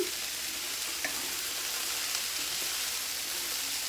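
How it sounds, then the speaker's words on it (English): Yakisoba noodles and vegetables stir-frying in a hot pan, a loud, steady sizzle that fills the whole clip with no talking. "Almost like a stir fry, only you're using noodles."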